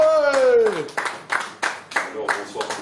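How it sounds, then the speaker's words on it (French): Applause from an audience at an evening slam poetry show, with clapping that comes in several uneven bursts, some of them rising sharply, over an excited voice and crowd noise. "On applaudit très fort notre poète de calibrage Khaled."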